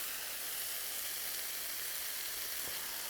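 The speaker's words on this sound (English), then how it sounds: "all we need to do is just kind of saute them for a few minutes until they're nice and warm for serving temperature" Cooked taco ingredients with spices, cilantro, salt and pepper sautéing in a pan, a dense even sizzle that holds steady and close throughout.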